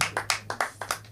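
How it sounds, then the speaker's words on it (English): A comedy club audience gives a quick burst of about six sharp, evenly spaced claps, sounding like a small crowd clapping in unison, with a low electrical hum underneath. "3 claps."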